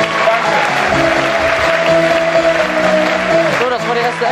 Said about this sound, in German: Wir holen einen Applaus dazu.